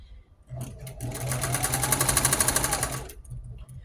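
A sewing machine quilting a Jeep-themed quilt runs in one steady burst of fast, even needle clatter for about two and a half seconds, close and loud, then stops.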